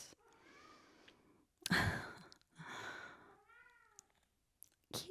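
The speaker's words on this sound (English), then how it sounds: "Kitty, come here. He's crying off camera" Cat named Leo crying off camera, a few drawn-out meows rising and falling between quiet gaps, with soft breathy sighs and rustle nearby and no speech.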